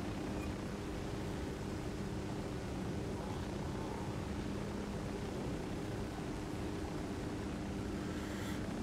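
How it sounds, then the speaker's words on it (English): Helicopter in the video game Ghost Recon Wildlands, a steady broadband engine and rotor drone with low hum bands, loud and continuous throughout, no talking. "You wanna, hop up in this here chopper?"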